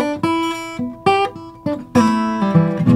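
Delta blues guitar riff on the A, the four chord, played from the E blues scale: plucked notes and quick slides in a shuffling rhythm, close and clear, no voice.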